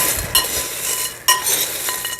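A snack mix of peanuts and cereal pieces is stirred in a bowl with a spoon, giving close scraping and rustling with a couple of sharp clinks against the bowl.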